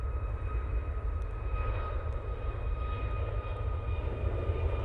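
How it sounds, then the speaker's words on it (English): Emirates Airbus A380 jet engines at Manchester Airport, a steady broad roar with faint whining tones, distant and continuous without change across the short stretch. "the mighty beast from the east, the Emirates A380"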